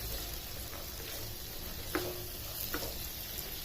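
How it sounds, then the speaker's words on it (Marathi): Onion and lentils stir-fried in a pan over a medium flame, a steady low sizzle running throughout with a couple of soft spatula scrapes near the middle. "कांदा ट्रान्सपरंट होईपर्यंत 4 ते 5 मिनिट आपण मीडियम फ्लेमवर याला परतवून घ्यायचं।"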